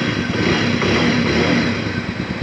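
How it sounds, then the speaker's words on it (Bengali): Several motorcycles idle and rev after a cold start in the rain during a group ride near Belpahari, Jhargram, their engines rumbling loud and close in a continuous, busy layer with no voices. "সবার বাইক রেডি, কোল্ড স্টার্ট হচ্ছে বৃষ্টির মধ্যে।"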